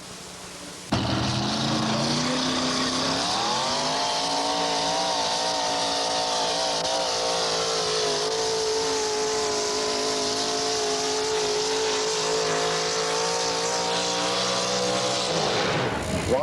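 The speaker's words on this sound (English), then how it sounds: "541 cubic inch Ford racing engine" A 541 cubic inch Ford racing engine in a truck roars loud and close, its pitch climbing over the first few seconds and then holding a steady, sustained howl before cutting off abruptly at the end.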